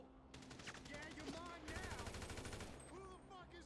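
Rapid bursts of gunfire in Grand Theft Auto V story mode, several quick automatic volleys in succession with game sound effects around them, fairly loud and sharp over about four seconds.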